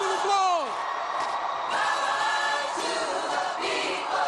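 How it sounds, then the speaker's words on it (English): A political rally crowd cheers for Senator Bernie Sanders in a loud, sustained roar with whoops and yells, and a rising-falling shout near the start. "Give him a round of applause."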